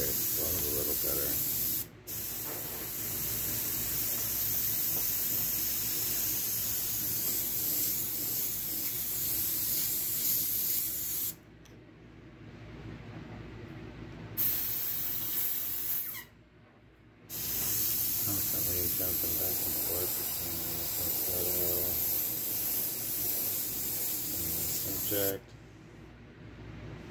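An airbrush sprays paint onto a custom tumbler in long continuous hissing bursts, broken by a few short pauses as the spray stops and starts, close and steady.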